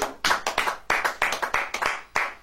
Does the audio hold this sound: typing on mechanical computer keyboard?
no